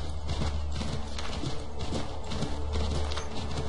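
A horse gallops along a path in Assassin's Creed 3, its rhythmic hoofbeats steady and fairly close, with a brief whinny and faint game ambience beneath.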